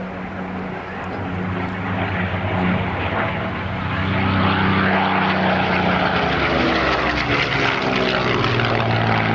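Hawker Hurricane propeller fighter flying at the 2005 RAF Cosford air show, a loud, steady propeller-engine drone that swells slightly as it passes close, with no talking.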